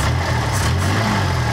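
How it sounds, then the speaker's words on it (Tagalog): Motorcycle or small engine revved after adjusting the distributor rotor and CDI timing, giving a steady, loud, close running drone with a low, even pulse and no pauses. "Pakinggan nyo yung tinig ng makina kung okay ba siya."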